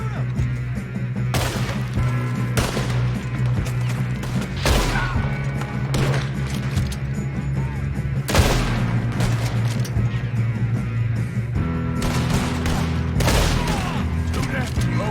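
Gunfire in the video game Red Dead Redemption 2, sharp repeated shots and thuds cracking out at irregular intervals over a steady musical score, with voices shouting during the fight.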